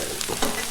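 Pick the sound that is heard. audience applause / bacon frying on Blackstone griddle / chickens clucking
bacon frying on Blackstone griddle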